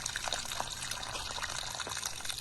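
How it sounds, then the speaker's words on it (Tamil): Water pours into a garden bed planted with cabbage greens, a steady, close rushing splash that runs unbroken and evenly loud throughout. "இப்போ தண்ணி எடுத்து விட்டாச்சு எப்படி ஊற்றுது பாருங்கள்"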